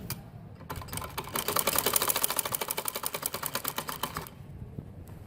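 A sewing machine stitching pajama fabric in a fast rapid-fire rhythm of clicking needle strokes that run for several seconds, start and stop with a pause, and are heard alone and close.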